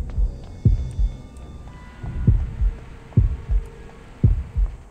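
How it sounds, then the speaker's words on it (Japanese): A heartbeat sound effect plays in the horror game Horrorfield, with loud, close, low double thumps repeating at a steady pace over a faint hum. "なんか心音がついてきてるような気がするんですけど"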